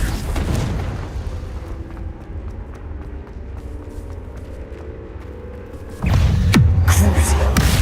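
A Confringo fire spell blast in Hogwarts Legacy erupts loudly near the end, a sudden heavy boom with crackling debris over steady low game ambience and faint earlier impacts.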